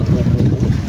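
Wind blows hard across a fishing boat at sea, a dense, rumbling gusty roar buffeting the microphone with no pause through the brief moment.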